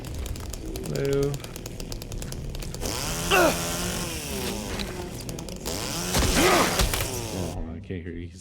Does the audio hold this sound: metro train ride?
no